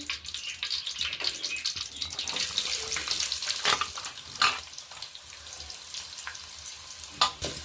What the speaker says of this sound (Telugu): ఇప్పుడు నేను ఉల్లిపాయ ముక్కలు వేసుకుంటున్నాను